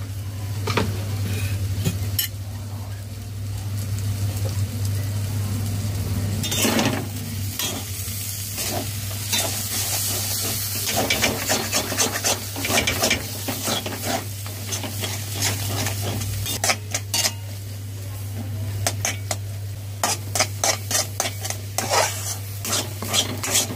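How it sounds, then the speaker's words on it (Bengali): Green pea filling for kachuri, mixed with green chilli paste, sugar, salt and cumin-coriander powder, stirred and sizzling in a pan, with steady close frying hiss, scraping strokes and a low continuous hum, no voices. "এইভাবে নাড়াচাড়া করে পুর তৈরি করে নিতে হবে।"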